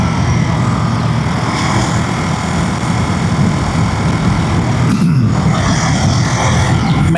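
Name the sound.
Ducati Monster motorcycle engine riding in sport mode, third gear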